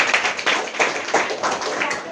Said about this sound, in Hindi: एक बार जोरदार तालियां रेखा जी को